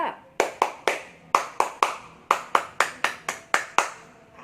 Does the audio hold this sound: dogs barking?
no